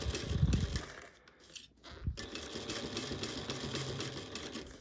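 A sewing machine runs in bursts while stitching binding onto a fabric bag, with a fast, steady mechanical chatter that pauses briefly near the middle and then resumes, close and moderately loud.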